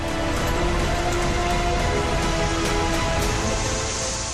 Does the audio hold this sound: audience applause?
no